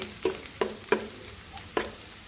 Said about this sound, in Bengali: সরিষার তেল দিয়ে পেঁয়াজটা ভেজে নিচ্ছি